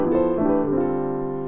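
Jazz piano: a sustained, rich chord shifting smoothly through a couple of close voicings, warm and fairly loud, ringing out without any talking.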